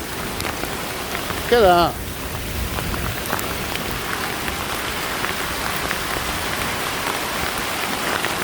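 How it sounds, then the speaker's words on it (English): Hailstorm in May in Wallasey near Liverpool, with dense hail pattering steadily on surfaces like heavy rain throughout, and someone briefly speaking near the start. "This is Hailstorm. And I'm caught up in it."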